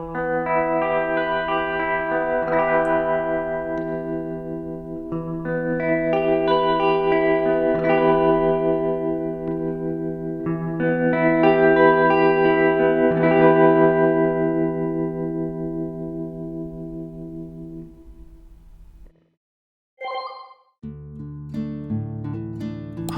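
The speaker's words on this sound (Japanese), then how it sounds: "ビブラートとリバーブをかけてみました。" An electric guitar run through the Ampire amp simulator in Studio One with vibrato and reverb, playing sustained wavering chords and notes whose tails ring out in a wash of echo, then a short pause and a few plucked notes.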